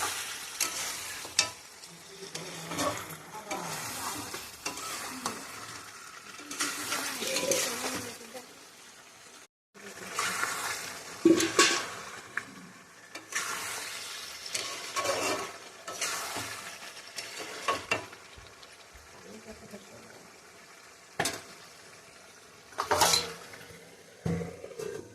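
Country chicken curry being stir-fried in a pan: steady scraping and stirring strokes over a continuous frying sizzle, with occasional clinks of utensil on metal and a brief pause partway through.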